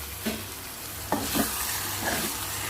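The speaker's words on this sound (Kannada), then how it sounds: "ಈಗ ಇದನ್ನ ಚೆನ್ನಾಗಿ ಮಿಕ್ಸ್ ಮಾಡೋಣ" A spoon scrapes and stirs through ridge gourd in a hot frying pan, several distinct strokes over a continuous soft sizzle.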